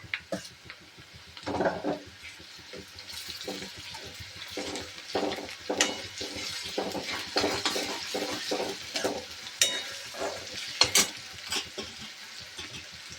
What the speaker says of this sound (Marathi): कांदे छान परतून घ्यायचे. त्यामध्ये टाकूया लसूण अद्रक पेस्ट